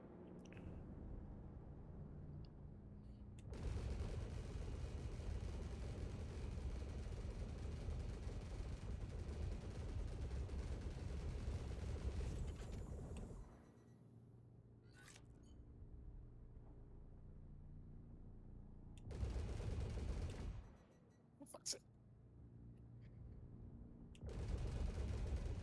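Sustained bursts of rapid enemy gunfire in Star Citizen, loud and continuous in long stretches broken by short quieter gaps, with engine-like rumble underneath.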